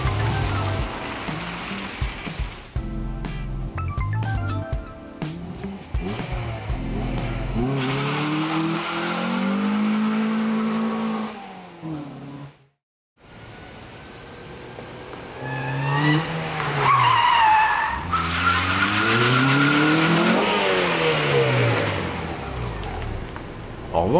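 A Honda Prelude VTi revs hard and its tyres squeal and skid through repeated slides, engine pitch rising and falling, with a brief silent gap midway.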